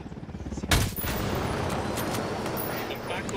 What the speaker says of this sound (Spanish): Y ahora nos echamos al helicóptero.